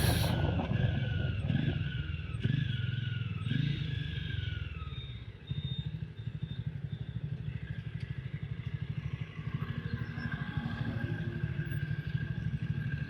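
A 2020 Jawa 42 BS6 motorcycle idles at a traffic signal with a steady, close, low engine putter, a few clunks and blips early on, then an even idle throughout.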